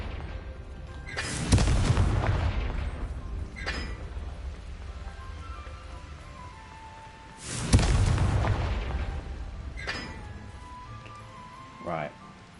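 Two heavy booms from the Confringo blasting spell in Hogwarts Legacy hit about six seconds apart, each with a rumbling tail, over continuous game background sound.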